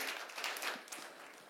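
Congregation at a church worship service breaks into a steady wash of clapping and applause that fills the room, continuous and fairly even throughout with no voices standing out.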